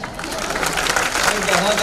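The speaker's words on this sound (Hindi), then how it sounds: "तालियां बजाइए" An audience at a Hindi comic poetry gathering applauds as a song ends, a steady wash of many hands clapping under a speaking voice.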